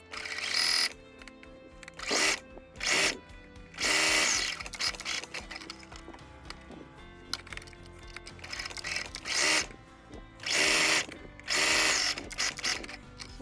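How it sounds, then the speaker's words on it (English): Sewing machine running a straight stitch along a chest flounce on a tube top, whirring in several loud, close bursts of one to two seconds, separated by short pauses and small mechanical clicks. "we will sew our chest flounce here using a straight stitch"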